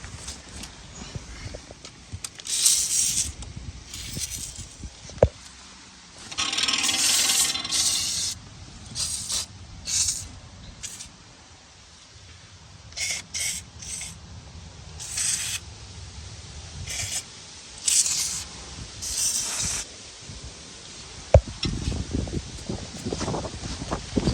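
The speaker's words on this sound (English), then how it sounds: "So that's just do a little quick spraying." A can of penetrant lubricant sprays onto bolts on a Ford Mustang II V8 engine frame mount in short hissing bursts with pauses between, close and moderately loud.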